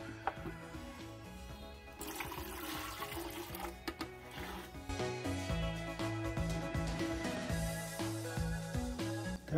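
Tap water runs and splashes steadily into a compost bin container as it is washed, a close, continuous gushing with clattering handling noises.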